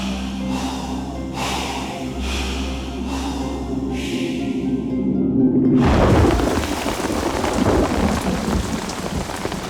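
A heavy thunderstorm in Cameroon with steady downpour, rumbling thunder under the rain at first, then a loud, close crack and a surge of pounding rain that keeps roaring.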